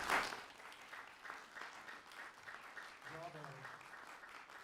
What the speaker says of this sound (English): I think we should give all of our composers and all of our performers just an incredible round of applause